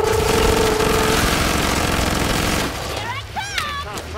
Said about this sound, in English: I love the sound of that gun.